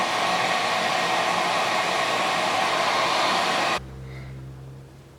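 A hair dryer on warm heat blows steadily and loudly over hair glued down with Got2b glue, then cuts off abruptly near the end, leaving a quieter room.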